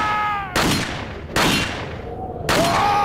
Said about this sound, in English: and I'm just gonna shoot them